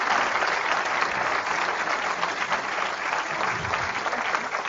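An audience at a conference claps for three speakers, a steady and dense burst of applause that holds at even loudness throughout, with no voices over it.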